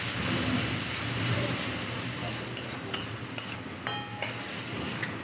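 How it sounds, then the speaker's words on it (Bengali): Boiled jackfruit is stirred into turmeric, salt and spices in a pan, with a soft sizzle under scraping spatula strokes and a few sharp metallic clinks near the end, heard close with no talk. "এবার সেদ্ধ করে রাখা এঁচোড়টা দিয়ে দেবো এর মধ্যে।"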